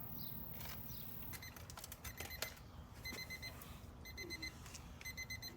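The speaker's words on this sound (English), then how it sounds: "You can hear buzzer going off." A faint electronic timer beeps in repeated bursts of rapid high tones, rising above low background noise.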